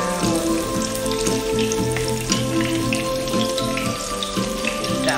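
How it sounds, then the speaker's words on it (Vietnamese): Eggplant slices fry in a pan over low heat, giving a steady, close sizzle and crackle that runs continuously throughout. "Chiên như vậy là mình chiên với dạng lửa riu riu như vậy thôi nha."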